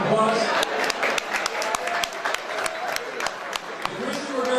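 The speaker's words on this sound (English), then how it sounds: "please give yourselves a nice round of applause" Audience applause at a charity gala raising funds for pontine glioma research, sharp scattered claps from a modest crowd heard over ongoing chatter and voices nearby.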